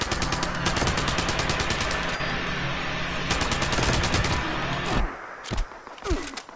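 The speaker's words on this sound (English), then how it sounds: "They're shooting from other directions too!" Dense, rapid automatic gunfire from a Warzone Nuclear Winter match, loud and nearly continuous for five seconds, then breaking into a few scattered, quieter shots.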